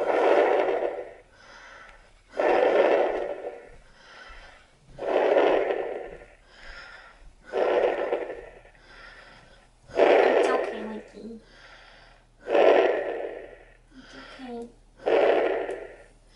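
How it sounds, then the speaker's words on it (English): Heavy breathing close to a microphone comes in about seven slow, rhythmic, loud breaths with short pauses between them, with no speech. "Am I breathing too loud?"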